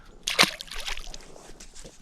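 A small smallmouth bass slips back into lake water at Ely, Minnesota, giving one brief near splash and slosh followed by faint trickling and dripping.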